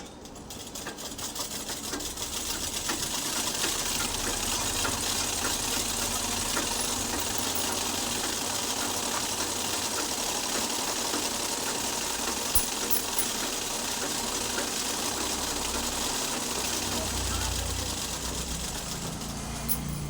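A sewing machine runs continuously while stitching a joint in shiny satin cloth, a close, steady mechanical whirring clatter with fast rhythmic needle ticks and no speech.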